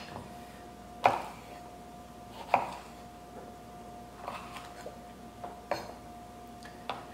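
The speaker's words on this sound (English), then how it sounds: "Finish cutting up our peppers" A rigid knife chops peppers on a board in a handful of sharp, separate strikes spaced a second or more apart, over a faint steady background hum.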